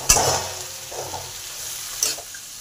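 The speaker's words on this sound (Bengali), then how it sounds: "বিনস, আর কুমড়ো, এগুলো ভালো করে ভাজা ভাজা করে নেব।" Beans and pumpkin frying in a pan for a Bengali chhyanchra made with fish head, with a soft steady sizzle and two louder bursts of stirring or scraping, close and with nobody talking.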